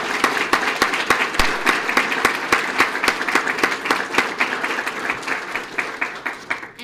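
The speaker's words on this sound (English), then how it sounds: "let's give him another round of applause." An audience at a Sarasota police promotional ceremony claps for an officer: a full, close round of applause with distinct rhythmic hand claps that goes on for several seconds before thinning slightly.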